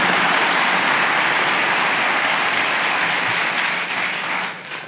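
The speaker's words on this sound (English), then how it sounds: "round of applause." A crowd at a fire and EMS graduation ceremony gives the graduating students sustained, dense applause, loud and even throughout before tapering slightly at the very end.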